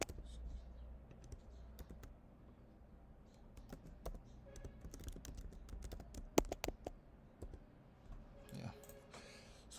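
A password is typed on a computer keyboard, giving a close, quiet run of irregular key clicks and taps in short bursts, with faint background noise and little else.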